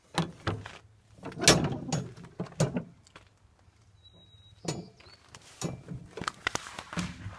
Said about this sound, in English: I'm just going to go back here and open this curbside door.